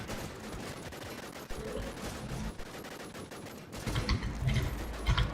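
Dense, continuous gunfire from a shooter video game, with bursts growing heavier and louder toward the end, loud and up close with no talk over it.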